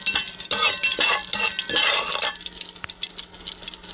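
A bay leaf frying in hot oil in a pan in a village kitchen: a loud, dense sizzle with stirring scrapes that fades to a softer crackle in the latter half, no voices.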